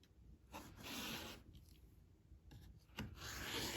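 Quilt fabric being trimmed along a ruler for flying geese blocks: close, quiet rubbing and cutting strokes in several short bursts, alone with no talk.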